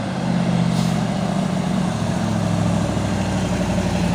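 A heavy Tronton dump truck engine runs with a loud, steady low rumble and a constant droning hum, close by and continuous throughout.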